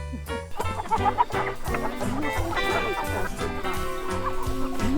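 Hens cluck and squawk close by over a layered, tonal background that stays fairly loud and busy throughout.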